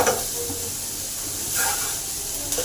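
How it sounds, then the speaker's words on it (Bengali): Grated ginger fries in a pan for a potato curry, making a soft continuous hiss and sizzle with a few light stirring scrapes. "আদাটাকে 1 মিনিট ভেজে নেব।"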